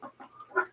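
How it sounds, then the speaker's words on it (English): A mother duck with her ducklings gives three short, soft calls in an uneven rhythm, close by and fairly quiet. "Good girl duck. Good mama duck."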